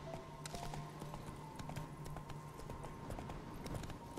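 Hooves of a horse in The Witcher 3 beat a steady, rapid clip-clop as it gallops, the quick repeated strikes running throughout at moderate loudness over a faint game ambience, with no one talking.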